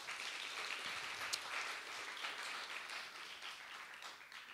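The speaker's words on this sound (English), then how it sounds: "A hand of applause, please." Audience applause welcoming a speaker at an art panel discussion, a steady wash of clapping from a modest crowd that holds fairly even for several seconds, then thins slightly toward the end.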